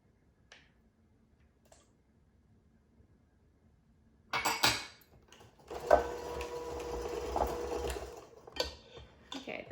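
Eggs being mixed into cupcake batter with an electric mixer: after a few quiet clicks and taps, a close whirring motor hum starts up and runs steadily with some clatter, no talking.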